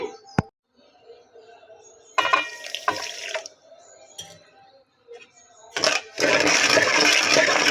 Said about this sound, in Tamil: இதை மூழ்கிற அளவுக்கு தண்ணி வச்சா போதுங்க